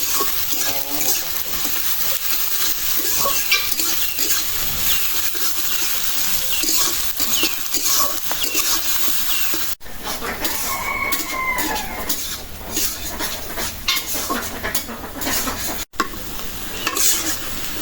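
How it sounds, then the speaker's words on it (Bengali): Chopped onions sizzle in hot oil for a mixed river fish curry, with a continuous crackling fry, repeated stirring scrapes and a rooster crowing somewhere in the background. "পেঁয়াজ তুলি একদম বাদামি কালার করে ভেজে নিলাম"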